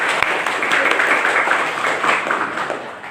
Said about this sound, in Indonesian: mari kita tepuk tangan yang meriah karena semua orang yang sudah hadir pada hari ini